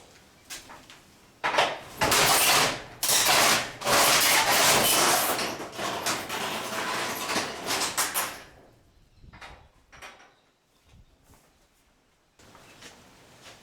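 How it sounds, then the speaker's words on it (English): A workshop door drags open in several loud, scraping, rumbling surges over about seven seconds, followed by fainter knocks and shuffling. "Step 2 is open the door."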